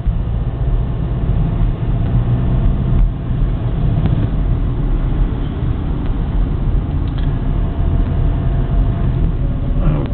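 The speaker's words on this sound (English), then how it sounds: "just a lot of rush hour traffic here" Dense rush hour traffic in Seoul, heard from a car stopped in its lane: a steady low rumble of idling engines and vehicles fills the whole stretch without letup, close and continuous.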